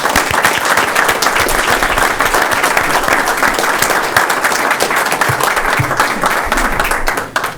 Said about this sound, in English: If you all could join me in giving them a round of applause.